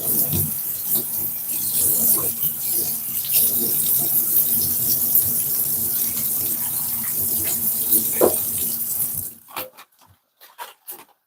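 Tap water runs steadily over fresh spring onions under a kitchen faucet, a continuous close splashing rush lasting about nine seconds before it stops, leaving a few faint drips and handling sounds.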